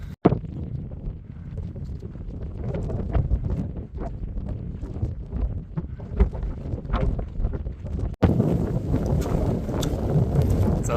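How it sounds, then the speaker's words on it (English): Strong gusting wind on the summit of Mount Washington in wet, cold weather buffets the microphone in a steady low roar, with a brief dropout partway through before the rushing continues. "It's a windy, wet, cold ghost town up here today."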